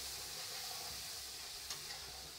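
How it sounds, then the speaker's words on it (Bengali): Spice paste frying in a pan while being stirred, a faint, even hiss with a soft scrape partway through. "এইবার মশলাটা একটু নাড়াচাড়া করে নিচ্ছি"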